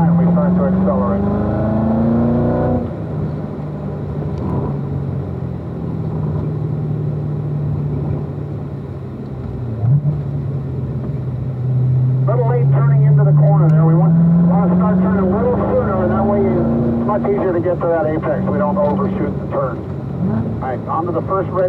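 Chevrolet Corvette Z06 accelerating hard out of a corner on the Spring Mountain race track, its engine note climbing and falling steadily, heard from inside the car beneath continuous driver talk.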